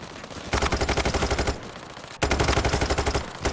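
Two bursts of rapid automatic gunfire in the video game Payday 3, a shorter opening burst and a longer one after a brief pause, loud and dense with no talk over them.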